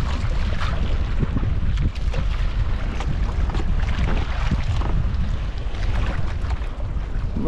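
Wind buffets the microphone out at sea aboard a small boat, a steady rumbling gust with water churning and splashing underneath, loud and close, with no voices.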